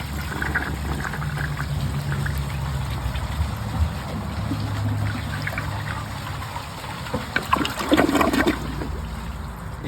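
A 1968 American Standard Cadet toilet flushing a washcloth: steady rushing, gurgling water throughout, with a louder surge of swirling water near the end.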